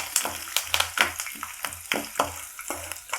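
Curry leaves frying in hot oil for upma give a soft sizzle, broken by a regular series of sharp scraping strokes, about seven in three seconds, close and clear.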